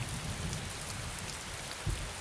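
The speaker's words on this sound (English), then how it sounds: "Kalur was not new to heavy Kodagu rains." Heavy monsoon rain pours down in Kalur, Kodagu, a steady, dense hiss of drops drumming on surfaces, with a soft low rumble rising briefly near the end; no one speaks.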